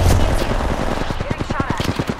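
Rapid automatic gunfire in an Apex Legends firefight, a loud, close burst of evenly spaced shots that rattles steadily for over a second.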